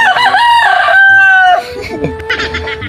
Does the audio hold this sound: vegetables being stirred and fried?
no